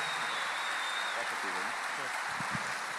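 A live comedy show audience applauds for a comedian, a steady, loud wash of clapping that carries on throughout, with a voice speaking briefly over it.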